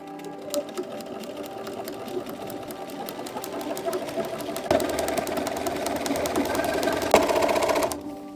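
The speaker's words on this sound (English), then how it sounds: "sew all the way around where we just pinned" A close, loud sewing machine stitches around pinned lining in one continuous run, its rapid mechanical chatter speeding up slightly partway through.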